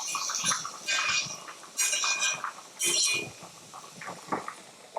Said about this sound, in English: butter knife and just healthy chunk of butter